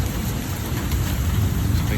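Pea-sized hail and heavy rain pelt a house, gutter and sidewalk in an Oklahoma thunderstorm, making a loud, steady, dense hiss close by throughout.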